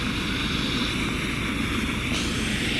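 Helicopter near a landing site on Braden School Road in Chippewa, a loud, steady rotor and engine roar that fills the whole stretch with a slight shift in tone near the end, no voices.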